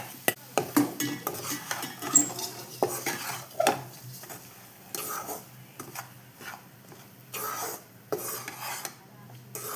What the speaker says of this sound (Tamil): இப்போ இந்த மாவை இதில் கொட்டி வறுக்கணுமா இது அரிசி மாவு